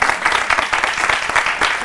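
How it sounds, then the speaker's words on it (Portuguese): Audience at a Mackenzie volunteering stage event applauding a speaker, steady dense clapping from a crowd, loud and close throughout with no voices over it. "Salva de palmas para Mirta, minha gente."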